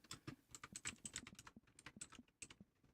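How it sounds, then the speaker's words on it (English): Rapid typing on a computer keyboard, irregular bursts of crisp close key clicks and clacks with short pauses, fairly quiet and with no voice over it. "Ignore my keyboard too."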